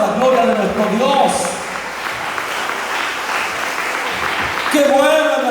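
A church congregation applauding, a steady wash of clapping from many hands with voices rising over it near the start and end.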